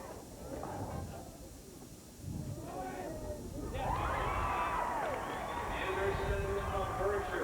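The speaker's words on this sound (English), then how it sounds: "Some excitement of the crowd as a high jump is cleared." A stadium crowd at a girls' high school state track and field final, a steady murmur that swells into cheers and shouts as a high jump is cleared, with a loud announcer's voice over it.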